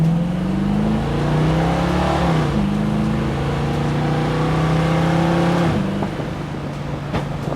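A 1949 Chrysler Windsor convertible fitted with a 350 engine accelerates from a rolling stop, its steady engine drone climbing in pitch through a gear change midway, loud and close from inside the car.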